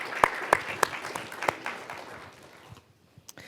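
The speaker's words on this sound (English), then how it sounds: "Round of applause for Keith." Audience applause at a finance summit keynote, several sharp claps standing out over a smattering of scattered clapping that thins and fades out.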